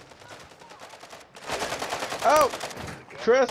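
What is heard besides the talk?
gunfire in the video game Call of Duty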